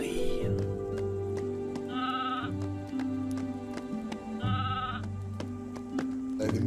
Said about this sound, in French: Ah, des moutons, bah oui.